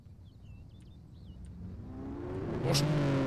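In a mafia-themed video game, a Corvette sits nearly silent before its engine swells into a rising rev near the end, growing louder over a few seconds.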